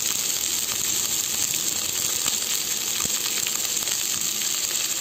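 Sliced onions, four of them cut lengthwise, fry in oil in a pan over a medium flame, giving a steady, close, continuous sizzle with no voices.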